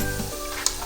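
Masala paste sizzles briefly in a hot pan, a soft, close hiss with a small sharp crackle partway through, and no talking over it.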